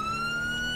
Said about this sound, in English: I'm lights and sirens right now